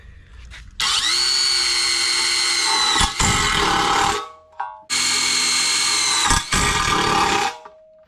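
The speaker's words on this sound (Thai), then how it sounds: "ตัวนี้เนี่ยเมื่อเจาะผ่านไปแล้วนะครับ เขาก็ยังจะ ขันอยู่นะครับ แต่จะขันด้วยความเร็วรอบที่ต่ำมากนะ" Osuka OCID821-D1 cordless impact driver boring into 2.5 mm thick steel, two loud sustained whining runs of several seconds each, with a brief pause and a slight pitch drop as the bit breaks through.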